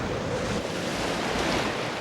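Ocean waves surge and wind roars against the hull of the research ship Calypso at sea, a loud, unbroken wash of surf and gusting air with no one speaking.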